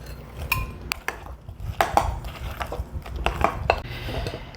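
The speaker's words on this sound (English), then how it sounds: "And then fold in the apples." Apples being folded into muffin batter in a bowl: close, uneven knocks and scrapes of a utensil against the bowl with soft wet squelching between them, alone without speech.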